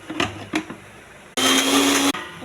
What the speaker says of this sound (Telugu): ఇది కూడా కొంచెం మిక్సీ చేయాలి.